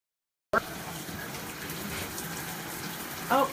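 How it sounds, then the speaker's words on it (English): Water runs steadily from a tap or shower while hair is rinsed to wash out product, a continuous moderate gush with brief high-pitched squeaks near the start and end. "So you're rinsing really well, because you want to get all that product out of there."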